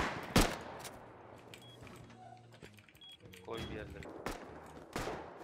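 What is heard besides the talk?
gunfire in the video game Rust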